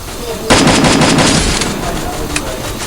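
Dense gunfire from the Free Fire battle game erupts suddenly and loud, a sustained rapid volley of shots rattling on for over two seconds, with a voice faintly present in the mix.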